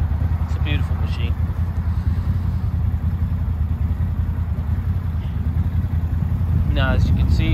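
Massimo Ravager 1000cc 85 hp sport UTV engine runs at a steady, close rumble during a test drive, with brief higher whine or rattle near the start and again near the end.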